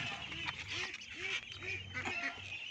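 Ducks quack repeatedly in a rhythmic series of nasal calls, close by in an outdoor rural yard near a vegetable patch, with overlapping quacks throughout.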